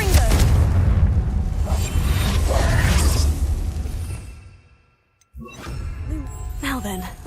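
A Confringo spell in Hogwarts Legacy lets off a loud, sustained blast with rushing whooshes that fades to near silence. A brief sharp crackle and softer game sounds follow.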